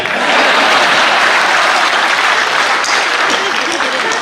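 Audience applause at a Hindi comedy poetry gathering, a Hasya Kavi Sammelan, with loud, dense clapping from a large crowd that continues steadily throughout.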